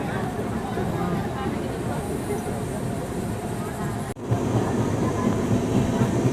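A Kanchankanya Express train rumbles steadily through Champasari forest in the Dooars during monsoon, a continuous broad roar of wheels and carriages heard from onboard with a brief dip before resuming.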